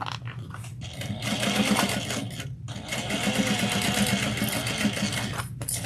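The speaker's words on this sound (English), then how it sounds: "we're going to go all the way around until I'm going to stop right where the opening is going to begin and back stitch well" Sewing machine back stitching a seam on a tote bag, its needle chattering in fast steady bursts with a brief pause between runs, close and clear with no talk.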